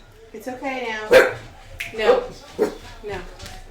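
Puppies barking excitedly in a room, with a few sharp yips and barks spread out over the moment, loud and close, alongside bits of people talking.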